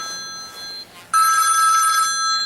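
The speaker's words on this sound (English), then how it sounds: "the phone's ringing anyway" A telephone rings indoors in a workshop, a short trill and then a longer sustained electronic ring, fairly clear and alone.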